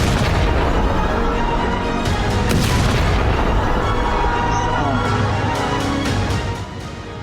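Iranian missiles strike residential areas of Beersheba, Israel, with a loud, rumbling barrage of heavy booms and blast rolls, several sharp cracks overlapping before the noise drops off at the end.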